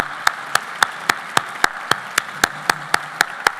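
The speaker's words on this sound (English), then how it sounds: "Any board members that are in attendance, please stand and let's give them a round of applause." Sharp, evenly spaced claps from one nearby pair of hands beat out a steady rhythm over a faint wash of applause at the Arts Fairfax awards, where board members are being applauded.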